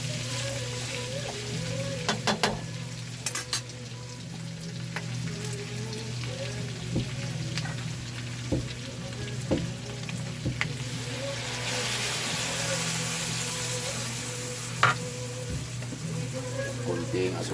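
Dried fish (tuyo) sizzles steadily in a frying pan over a low constant hum, with a few sharp pops and clatters rising above the hiss.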